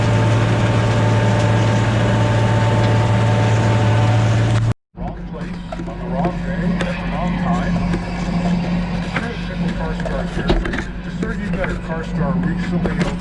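A Massey Ferguson 6499 tractor drives a silage bagger during a corn silage harvest, a steady loud engine drone with low hum throughout, briefly cut off near the middle before resuming with clattering machinery.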